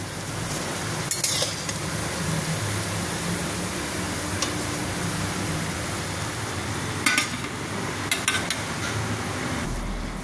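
A steady, dense sizzle of fritters frying in hot oil, with a few brief clinks and scrapes of a utensil against the pan.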